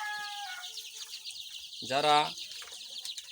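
Egyptian Fayoumi farm chicks at a sale, with a brief burst of peeping and clucking heard mid-clip amid a voice talking nearby.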